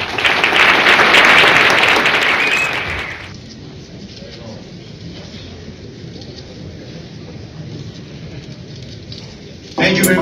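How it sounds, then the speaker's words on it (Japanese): Spectators at a men's physique bodybuilding contest, the Japan Pro event in Okinawa, burst into loud applause for about three seconds. It then fades into quieter hall noise, with a short loud burst returning at the very end. "大きな拍手をお願いします"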